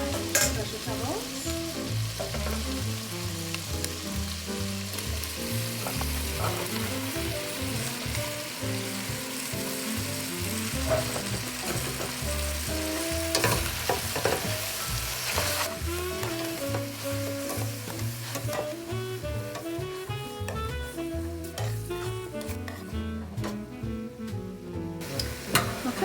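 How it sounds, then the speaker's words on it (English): Chopped vegetables sizzle and fry in a chicken soup pot while being stirred, a steady close crackle with repeated scraping strokes, running continuously with no talking. "now I'm going to add in my vegetables"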